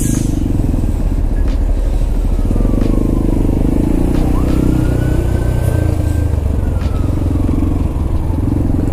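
A dual-purpose motorcycle rides and weaves through traffic, its engine droning loud and steady throughout with slight pitch shifts as it maneuvers, alongside faint passing traffic.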